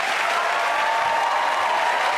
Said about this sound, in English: And Laurie, give everyone a round of applause